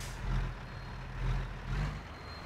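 A heavy truck pulling a trailer maneuvers in reverse and forward, its diesel engine a steady low rumble that swells in a few slow surges over about two seconds, with no voices.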